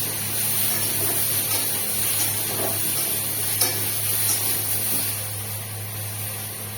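Potato and pointed gourd pieces fry in a pan with a little oil, giving a continuous close sizzle with faint scraping and a low steady hum underneath.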